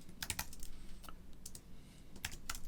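Soft typing on a computer keyboard, entering text into a free-text field of a form, in irregular clusters of quick key taps with short pauses between them, close and quiet, with no voices.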